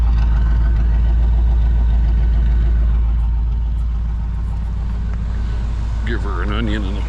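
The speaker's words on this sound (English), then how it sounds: "I just put exhaust on this thing." A 1960 Chevrolet Bel Air idling through a newly fitted exhaust, giving a loud, steady, deep rumble that stays close and constant, with a brief voice near the end.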